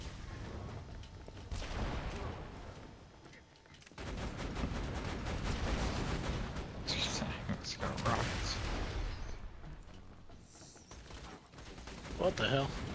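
A deployed turret in Borderlands 2 fires rapid bursts of gunfire, with mechanical clatter and impact booms among other game effects, while someone talks over the shooting.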